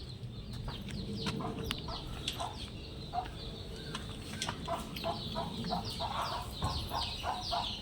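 Chickens and roosters on a village poultry farm cluck and call repeatedly over a steady background hum, many birds close by with overlapping squawks throughout, no clear talk.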